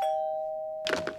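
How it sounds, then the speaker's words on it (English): A doorbell in a cartoon sounds a single sustained chime tone that fades out, followed by a brief burst of a different sound at the end. "Ding dong."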